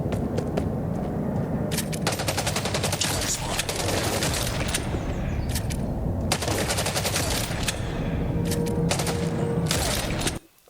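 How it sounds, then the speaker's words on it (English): A shotgun loaded with dragon's breath ammo fires in rapid, dense bursts of blasts in the sci-fi shooter game EVE Vanguard, loud and continuous with brief gaps. "That's a shotgun that basically almost has like dragon's breath ammo loaded into it."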